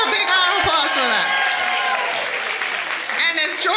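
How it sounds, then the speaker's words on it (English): An audience at a charity annual meeting applauds in a sustained burst of clapping, with some cheering and vocal sounds mixed in over the dense, fairly loud wash. "Can we give a big round of applause for that?"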